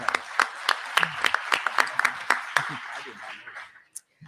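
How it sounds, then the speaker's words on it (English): Audience applause for a gubernatorial candidate at an economic empowerment forum, a steady wash of clapping with sharp individual claps standing out, fading toward the end; voices murmur underneath. "Give him a round of applause, everybody"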